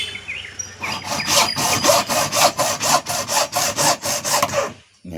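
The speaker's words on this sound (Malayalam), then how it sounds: "ഇത് ചെറിയ കഷ്ണങ്ങളാക്കിയിട്ട് കട്ട് ചെയ്തിട്ട് അക്ഷരത്തിൻ്റെ ക്രമത്തിൽ ഒപ്പിച്ച് കൊണ്ടുവരേണ്ടതാണ്." A hand saw cuts through dry coconut shell in steady back-and-forth strokes, about a dozen rhythmic rasping passes close up, with no talk, as the shell is cut into small pieces for a lettering craft board.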